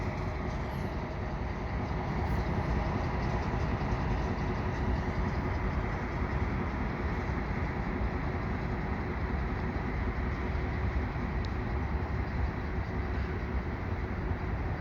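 A Herzog maintenance-of-way locomotive with an unusual cowling rolls past at Dorval, a steady heavy rumble of engine and wheels holding loud and constant for the whole stretch, with no talk over it.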